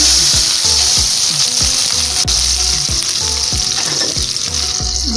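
Long-sliced onions go into hot oil with cumin and fenugreek and fry in a loud, continuous close sizzle, with repeated soft scraping knocks from a stirring spoon against the pan.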